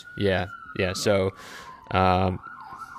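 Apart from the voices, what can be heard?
emergency vehicle sirens in San Francisco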